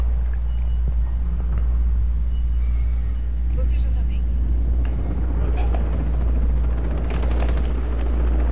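Helicopter rotor drone in the video game Ghost Recon Breakpoint, a steady low rumble running throughout beneath scattered gunfire-like bursts and game noise.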